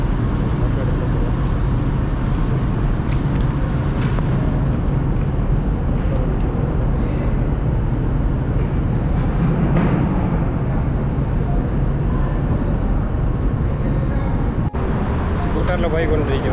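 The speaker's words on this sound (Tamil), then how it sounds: "ஸ்கூட்டரில் போய் கொண்டிருக்கிறோம்." A scooter rides through Dubai traffic at night, giving a steady, dense rumble of engine and road noise with passing vehicles and a brief sharp knock near the end.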